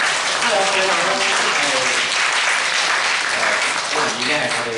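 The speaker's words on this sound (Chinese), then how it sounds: "我们给他掌声" A church congregation applauds at a Sunday service, clapping dense and steady throughout, with voices talking and greeting over the clapping.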